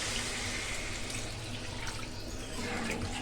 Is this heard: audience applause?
no